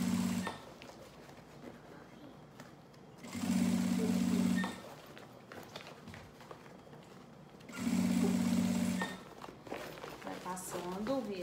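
A sewing machine stitches bias binding along the edge of fabric, running in two steady whirring bursts of about a second and a half each, with a quiet pause between and a soft voice talking throughout.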